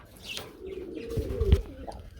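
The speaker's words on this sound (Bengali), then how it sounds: "আমরা এখানে আরেক জোড়া রেসার কবুতর দেখতে পাচ্ছি" Racer pigeons give a low, drawn-out coo near the middle, close and moderately loud, against a quiet background with faint other bird sounds.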